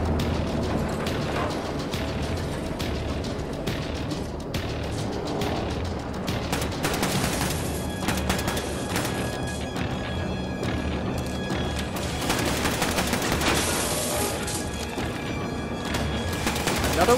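Bursts of gunfire from a shooter video game crackle in rapid volleys throughout, loud and dense, with someone talking intermittently over the action.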